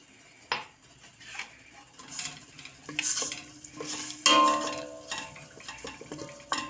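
Soft sizzling of onions frying in vegetable oil, with occasional clinks and scrapes of a utensil against the pot; quiet and close, no talking.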